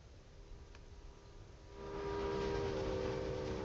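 A locomotive running in the video game Railway Empire, a quiet low rolling rumble that grows steadier and louder halfway through, with a faint tonal hum and no talking.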